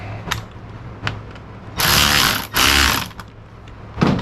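Screws tightened into a smashed Stihl MS 280 chainsaw under repair. A few light clicks come first, then two loud, close, rasping ratchet-like bursts of about a second each, followed by more scattered taps.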